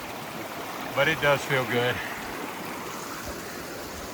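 Icy stream water flowing along the Appalachian Trail, a steady soft rushing wash running throughout, with a person speaking briefly over it near the middle.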